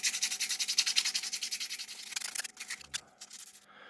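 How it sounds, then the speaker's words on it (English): Sandpaper rubbing over clear-coated wood on a model carved from a wooden spoon, a rapid, steady back-and-forth rasping close up that slows into a few separate strokes near the end. "Just gonna give it a quick sand back before we start painting."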